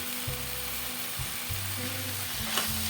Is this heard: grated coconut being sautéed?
yes